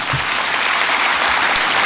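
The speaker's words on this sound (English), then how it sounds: "Please join me in another round of applause for all of our speakers." An audience at a child welfare conference plenary applauds its speakers with a dense, loud, even wash of clapping that stays steady throughout.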